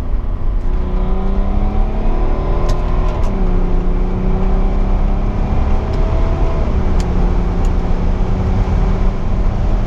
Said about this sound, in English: Okay, let's put some throttle. Are you ready? Second gear.